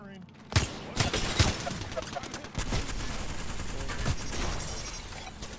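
Gunfire in the battle royale video game Apex Legends, with loud bursts of rapid shots and sharp single cracks over several seconds, mixed with game effects and a voice speaking.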